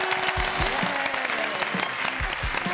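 Audience applause on a family cooking competition show, a loud, continuous patter of clapping from a studio crowd, accompanied by a few low thumps and a brief tonal sound.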